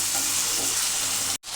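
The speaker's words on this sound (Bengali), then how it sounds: "আমি কিন্তু এটাকে একটু ভালো করে কিন্তু একটু নাড়াচাড়া করে ভেজে নিয়েছি" Aar fish pieces fry in a pan while being stirred, giving a continuous bright sizzle that cuts out abruptly near the end and then resumes.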